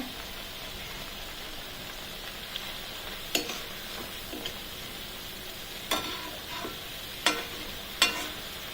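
Masala frying in oil for a potato gravy (kurma) crackles in a steady close sizzle, with a few sharp scrapes and taps of a spoon stirring the pan now and then.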